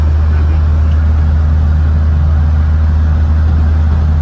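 A 1977 Datsun 620 pickup truck engine cruising with a steady, loud, low drone and continuous road and wind rumble. Nobody speaks over the noise.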